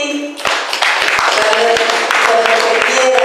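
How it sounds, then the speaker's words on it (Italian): Congregation applauding at an evening prayer gathering, a loud, steady burst of many hands clapping with a few voices mixed in throughout. "Facciamo un applauso a tutti"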